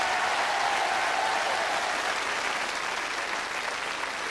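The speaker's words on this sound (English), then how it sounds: "Give a nice round of applause." Studio audience on a 1994 game show applauding, a steady, dense wash of clapping that holds for several seconds before easing slightly at the end.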